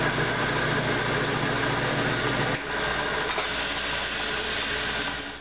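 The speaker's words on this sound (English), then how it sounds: "we can take it to the bandsaw and cut it into parts." A bandsaw cutting car door pillar sheet metal, a steady close mechanical drone with a slight shift in tone midway, continuous and unbroken.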